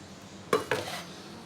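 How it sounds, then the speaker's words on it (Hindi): Meat and onions tipped into a cooking pot for spicy bhuna beef land in two quick metallic clatters about a fifth of a second apart, and a short soft hiss follows in an otherwise quiet kitchen. "सबसे पहले मैं इसके अंदर डाल दूँगी प्याज के साथ गोश्त ऐड कर दूँगी।"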